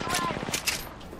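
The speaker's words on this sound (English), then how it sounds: "Bro, I'm getting fucking shot." Rapid gunfire in the battle royale game Apex Legends, a quick run of sharp repeated shots followed by a couple of louder cracks, loud and close.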